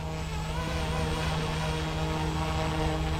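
An Eachine E190S GPS military-scale RC helicopter holds a slow hover outdoors, giving off a steady, even rotor and motor whine with a constant hum and no change in pitch or loudness throughout.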